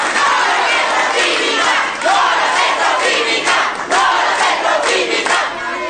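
A loud crowd at a market in Pisco, Ica, Peru greets a visiting Congress president with mixed applause, shouted complaints and booing, a dense continuous roar of many voices throughout.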